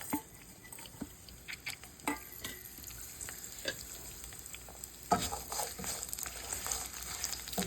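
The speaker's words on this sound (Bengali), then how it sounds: "এই মরিচ, দেখতে পাচ্ছ শুকনা মরিচ, পাঁচফোড়ন, সরিষা যেটা ইয়েলো, এবং কিছু রসুন কেটে নিয়েছি। আর এটাকে আমি ভেজে নেব।" Dried chilies, panch phoron, yellow mustard seeds and cut garlic frying in oil for a coriander leaf pickle, a faint sizzle with scattered clicks and stirring scrapes, no voices.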